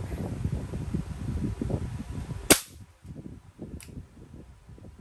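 A toy gun loaded with Blu Tack fires once with a sharp, close snap midway, followed by a fainter click, over rustling wind-buffeted background noise.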